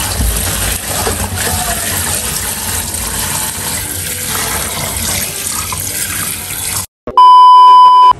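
Tap water runs steadily into a sink while fish is washed by hand for a provincial sinuam dish, a constant splashing rush that ends abruptly, followed by a short electronic beep tone.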